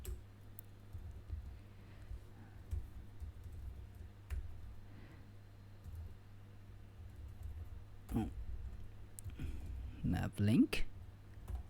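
Light typing and key clicks on a computer keyboard while coding a React website, faint and intermittent under a person talking, with a short burst of louder clicks near the end.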